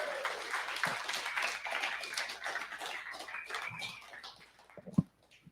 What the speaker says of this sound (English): if we could please give Richie a round of applause